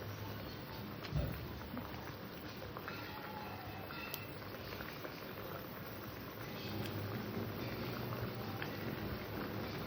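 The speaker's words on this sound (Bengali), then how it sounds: "ঢাকা দিয়ে আমি তরকারিটাকে ফুটিয়ে নেব যাতে আলুটা সেদ্ধ হয়ে যায়" Potato and small carp fish curry boils in a covered pan, a faint steady bubbling and soft patter that goes on evenly throughout, with no talking over it.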